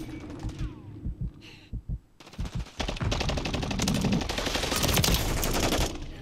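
Gunfire in the video game Modern Warfare III: a few sparse single shots, then a sustained rapid automatic burst of dense, loud firing that carries on to the end.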